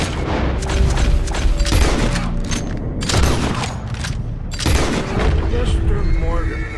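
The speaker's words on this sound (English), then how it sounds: "Mr. Morgan, can we have one day without gunfire?" Gunfire in the video game Red Dead Redemption, several loud booming shots and volleys in irregular bursts with echoing tails, mixed with game sounds and voices.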